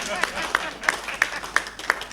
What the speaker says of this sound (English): you can clap for me if you want.